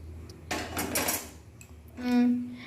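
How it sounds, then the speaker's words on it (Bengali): A metal kadai, or wok, is set down on a gas stove: a short burst of clanking and scraping, then a brief metallic ring, all fairly quiet. "এবার গ্যাস চালিয়ে একটি কড়াই বসিয়ে দিচ্ছি"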